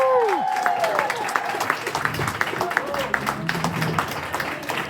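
A church congregation claps at a baptism service where five people are baptised, a lively, fairly close patter of many hands lasting throughout, mixed with cheering voices and crowd noise.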